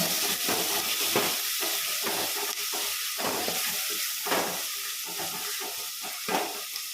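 Tomatoes fry in a hot pan for a green peas kurma, making a steady hissing sizzle broken by repeated scraping strokes of a stirring spoon at a close, moderate level.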